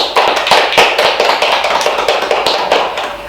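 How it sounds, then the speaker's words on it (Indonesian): Loud, close clapping from a school audience of students for student council candidates, many distinct sharp claps in a quick rhythm that gradually eases off over a few seconds. "tepuk tangan untuk semuanya."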